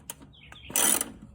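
A ratchet fitted with a 17 mm socket works on a Honda rear shock bolt, giving a few close clicks followed by a short burst of rapid ratcheting.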